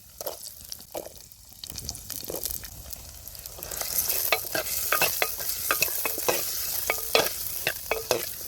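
Onion tossed with cardamom, fennel and cumin sautés in a pan; light scraping and clinking stirs come first, then a hissing sizzle swells midway with sharp spatula clicks, close and without talk.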